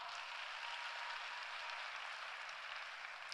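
Audience applause at a short-film awards ceremony for a second-place winner, a steady, dense wash of clapping that stays even throughout without any voices.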